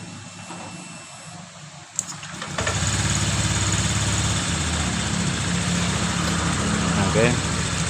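A rebuilt motorcycle engine, just mounted back into its frame, starts up after a short cranking and settles into a loud steady rumbling idle with a faint voice underneath.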